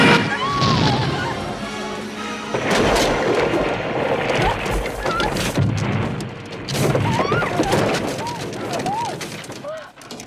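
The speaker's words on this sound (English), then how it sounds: "Your flying machine has broken his house and frightened his sheep." A flying machine crashes into a house with loud rumbling impacts, smashing and clattering debris, while excited voices shout over the chaos throughout.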